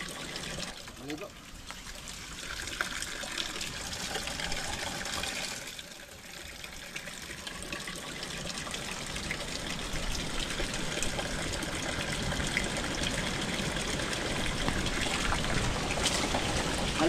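Water trickles and splashes continuously at a camp bathing spot, growing slightly fuller toward the end, with people talking over it.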